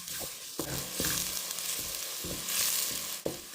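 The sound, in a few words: onions sautéing in a pot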